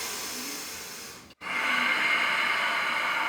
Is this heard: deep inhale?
yes